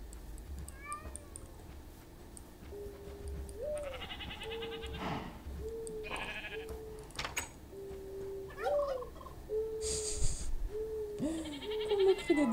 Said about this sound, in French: Comme le cri des dindons me fait trop marrer ou quoi.